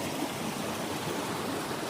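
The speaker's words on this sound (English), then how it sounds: "You can see the water's moving pretty quick." A fast-moving stream rushes along a hiking trail near a waterfall at Stone Mountain, a steady, even wash of flowing water with nothing else standing out.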